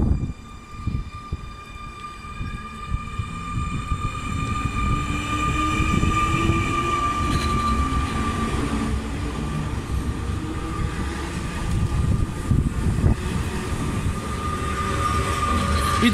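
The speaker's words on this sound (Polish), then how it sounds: "Odjeżdża pociąg Sprinter Rachowiec racji Częstochowa z Wardoń." A Sprinter passenger train pulls out of a Polish station toward Częstochowa, its rumble building from quiet to a steady, loud roll with a sustained tonal whine and rattling wheels, no voices.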